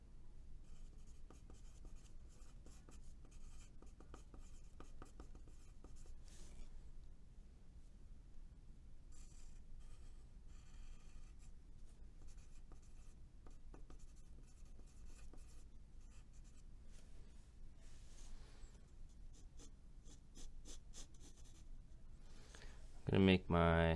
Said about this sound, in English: Let's draw a picture.